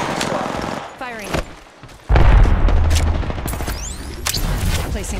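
Video game gunfire crackles in sharp bursts amid a busy battle mix, with booming hits and an in-game voice callout over the shooting.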